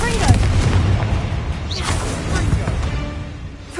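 A Confringo blasting spell explodes in the Hogwarts Legacy video game. Heavy, rumbling booms roll out amid combat noise, with a voice present in the mix.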